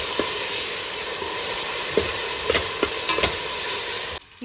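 Ginger garlic paste frying in a pan, a steady close sizzle with occasional stirring scrapes and small pops, without talk.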